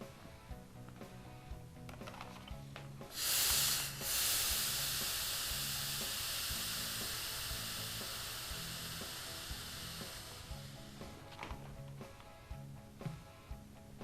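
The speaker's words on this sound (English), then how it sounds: "Moving to a different area of the towel to hit that with the steam again." A steamer hisses through a towel onto premade synthetic dreadlocks in a loud burst lasting a few seconds that tapers off slowly, with softer background sounds before and after.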